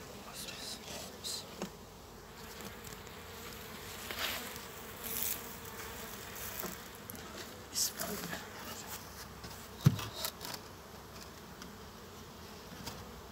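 Bees buzzing steadily around a beehive, a dense insect drone close to the hive with a few louder passes and faint voices in the background.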